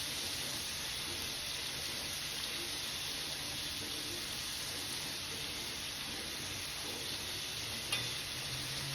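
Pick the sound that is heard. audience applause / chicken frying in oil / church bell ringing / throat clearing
chicken frying in oil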